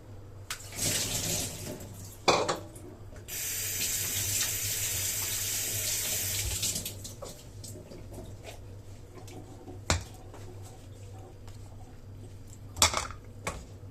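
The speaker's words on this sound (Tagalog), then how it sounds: "Hugasan muna natin yung peanut." Peanuts are washed under a running kitchen tap, with bursts of water splashing into the sink, a longer steady stream in the middle, and occasional clinks of dishes and utensils.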